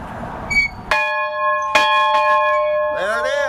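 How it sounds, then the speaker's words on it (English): An old school bell at the Dickinson County Museum is struck twice, each a bright ringing clang that hangs and decays, followed near the end by a brief voice. "now kids can come and ring that bell"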